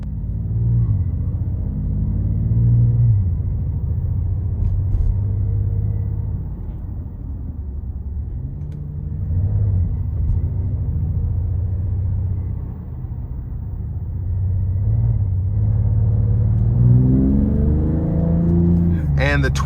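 A 2026 Dodge Charger Scat Pack with a twin-turbo inline six accelerates, its deep engine rumble building and easing in steady waves as the revs climb, heard from inside the car with a voice speaking over it.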